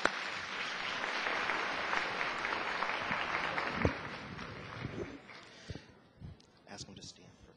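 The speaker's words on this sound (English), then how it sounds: "Let's give Michelle a round of applause." Audience applause at a Glendale neighborhood poster contest meeting, a broad wash of clapping that fades out after five seconds, leaving scattered faint sounds and a few brief voices.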